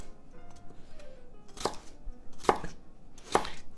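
A knife chops fresh fennel into strips on a cutting board, three sharp distinct thunks spaced under a second apart after a quiet start, close and clear with no talk.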